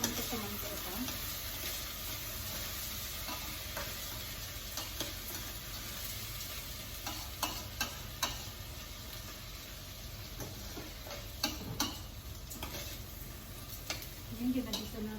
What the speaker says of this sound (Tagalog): Yan, ginagisa natin sa mantika.